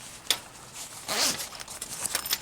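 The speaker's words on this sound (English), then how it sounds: "this is got 2 zippers on it" A zipper on the door panel of an RV patio roof enclosure is pulled in a few quick, close rasping strokes, with a sharp tug near the start and a longer zip in the middle.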